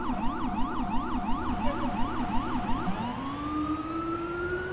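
A quiet wailing emergency siren from a Rescue 9 unit responding to a car off a bridge in the EmergeNYC game, sweeping up and down in a steady rapid cycle, then changing to a long rising and falling wail.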